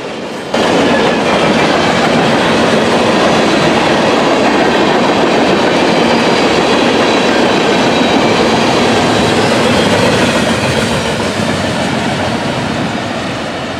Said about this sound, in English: we see a pair of old Amtrak boxcars that are also on this train as well.